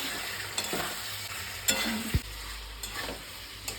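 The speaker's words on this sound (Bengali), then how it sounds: "দেখুন আমার মশলাটা কষা কষাচ্ছি প্রায় নরম হয়ে আসছে" Spice paste with turmeric and Kashmiri chilli frying in a pan for a cauliflower and paneer curry, a soft steady sizzle with a few scraping stirs and a knock of the utensil, close by.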